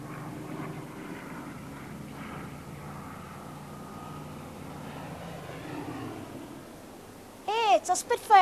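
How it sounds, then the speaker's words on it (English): A Spitfire aircraft, propeller engine droning overhead at moderate distance, steady and rumbling through most of the stretch; near the end a loud harmonic tone rises and bends sharply over it. "It's a Spitfire."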